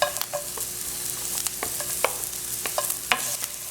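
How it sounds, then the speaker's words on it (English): Grated garlic, pimento and onions fry in hot coconut oil in a pan, sizzling steadily while being stirred, with scattered scraping clicks from the utensil. "to my hot pan, I am adding some coconut oil, and then I'm going to add my grated garlic and pimento"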